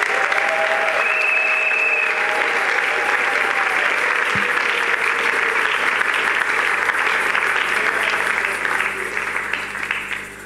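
A church congregation claps and cheers in sustained, dense applause throughout a joyful Easter celebration service, steady and loud, tapering slightly at the end.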